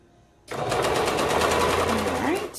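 A sewing machine straight-stitches the seam of a toddler maxi dress, starting abruptly and running as a fast, steady close-up chatter of stitches, with a voice talking faintly over it.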